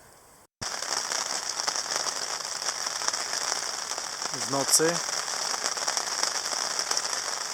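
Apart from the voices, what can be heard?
rain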